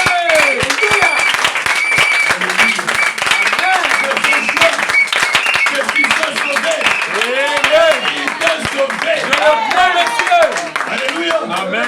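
Loud congregation applause and clapping at a church service, steady rapid hand claps throughout with cheering voices over them.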